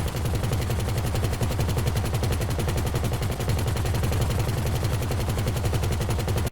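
Vehicle-mounted machine guns fire in GTA Online, a fast, unbroken stream of evenly spaced loud shots that runs the whole way through without voices.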